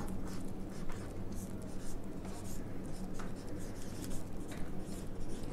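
Pen or marker writing on paper during an accounting lesson, a steady scratchy rubbing that runs continuously at close range over a low hum, with no speech over it.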